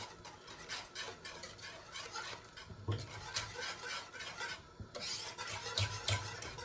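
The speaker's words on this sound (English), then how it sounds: "So we're gonna continue the whisking process." A mixture is whisked in a bowl, giving continuous rapid scraping and rubbing strokes with occasional light clinks of metal against the bowl, fairly close and steady throughout.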